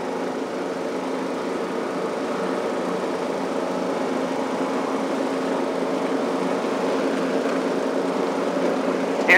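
A lawn mower with high-lift blades runs at a steady, close, loud drone for the whole stretch, working over a dusty, patchy lawn, with no talk.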